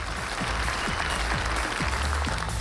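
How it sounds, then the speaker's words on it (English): Steady audience applause fills a magic show theatre, a continuous wash of many hands clapping without a break. "let's give her a big round of applause as she makes her way up on the stage"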